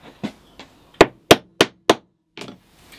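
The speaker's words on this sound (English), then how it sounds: "Again, using the little hollow dome punch." A hollow dome punch is struck with a hammer to set a leather rivet cap, a quick series of sharp close knocks, a few light taps followed by four harder blows and a softer final tap.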